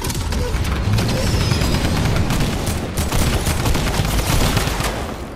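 Gunfire in Fortnite: dense, rapid bursts of shots crackle almost continuously at close range, loud and chaotic, with impacts mixed in.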